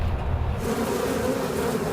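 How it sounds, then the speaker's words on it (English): A swarm of bees hums in a steady, dense buzz, loud and close, with a low vehicle-like rumble underneath and no voices. "looks at how a bee swarm should be collected"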